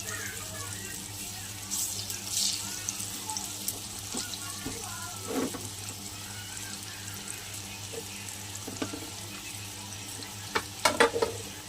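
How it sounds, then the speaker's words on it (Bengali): Eggplant seasoned with cumin, turmeric, chili powder and salt fries in a pan, giving a continuous sizzle with intermittent stirring scrapes and clinks throughout, close up. "এবার আমি একটু ভেজে নেব।"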